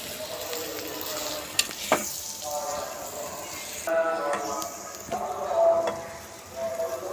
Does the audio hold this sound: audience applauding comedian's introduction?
no